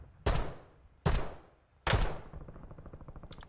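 Three loud, sharp gunshots from an enemy sniper in Call of Duty Warzone, spaced about a second apart, each with a sharp crack and decaying echo, followed by faint rapid clicks, no talk.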